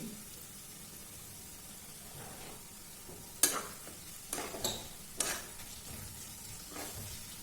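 Fried vegetables sizzling in ghee in a pan, a soft continuous hiss broken by a few sharp scraping knocks from stirring near the middle and end.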